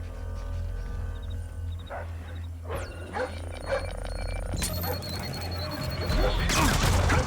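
Dog barking in the stealth video game Splinter Cell Blacklist, sharp repeated barks rising over a busy game soundscape of ambient hum and effects, growing louder toward the end.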